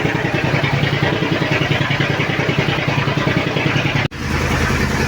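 An empty tanker truck overtakes on a road, its loud, steady engine rumble and mechanical clatter running continuously close by, with a brief dropout just before the end.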